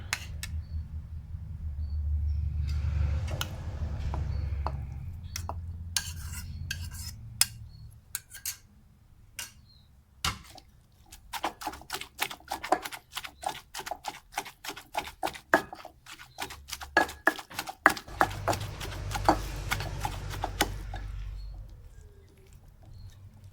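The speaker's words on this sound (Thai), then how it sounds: "ปลานิ่มแกะมาเรียบร้อยเอามาตำตำเลยค่ะ" Rapid, irregular thudding taps from a pestle pounding flaked tilapia flesh in a mortar, starting sparse and growing denser, over a low steady hum.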